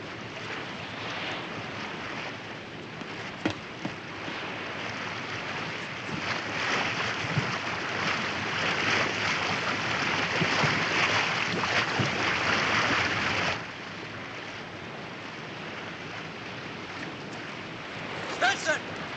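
A warship's engines run at half speed at sea amid wind and waves, a steady broad rumble and wash that drops abruptly partway through, with a voice calling out over it.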